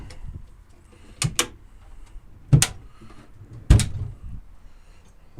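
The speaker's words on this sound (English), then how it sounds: "So close all your drawers." Three sharp knocks, evenly spaced about a second apart, with quiet room noise between; the drawers of a US General double-stack five-drawer tool cart being pushed shut.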